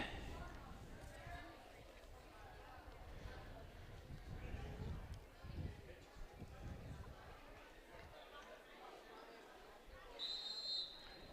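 A referee's whistle opens the second half of a junior varsity high school football game between North Mason and Shelton, one brief shrill blast near the end, faint and distant under crowd noise and commentary.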